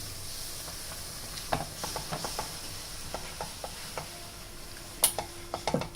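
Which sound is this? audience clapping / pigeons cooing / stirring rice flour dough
stirring rice flour dough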